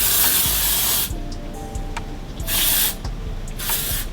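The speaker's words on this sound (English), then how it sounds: "Let's go ahead and put the dry shampoo in. This one is by Amika." Amika dry shampoo sprayed from an aerosol can onto freshly silk-pressed hair, three close bursts of hissing spray, the first longest, separated by short pauses.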